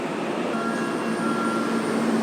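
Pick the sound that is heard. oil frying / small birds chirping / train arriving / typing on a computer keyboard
train arriving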